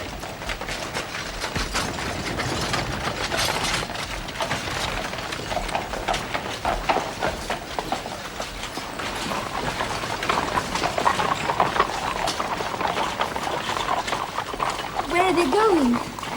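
A long train of horse-drawn carts carrying wounded soldiers in early-1800s Russia rolls past, with constant clattering hooves, creaking wheels and crowd noise forming a dense, unbroken din throughout.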